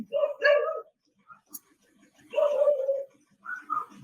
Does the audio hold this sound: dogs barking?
yes